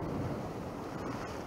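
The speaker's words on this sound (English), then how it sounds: "It's very choppy, very windy." Choppy sea and strong wind near St. Malo Bay on the French coast, a dense continuous rumble of buffeting gusts and churning water, close and steady with no voices.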